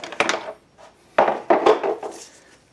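A big Mac Tools torque wrench tightens the rear wheel hub on a 2007 Kia Sportage, giving a few sharp, close metallic clunks and ratcheting bursts with short pauses between them, and no talking.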